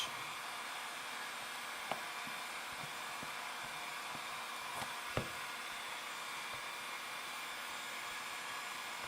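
A heat gun blows a steady, even whir while warming a side number plate graphic on a 2017 Honda CRF450 motorcycle, with a couple of faint clicks and taps under the constant airflow.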